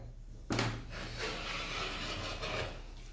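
A craft cutter blade is drawn across material on a cutting base, giving a short scraping rub that begins with a sharp contact and carries on in a few soft strokes, close and quiet.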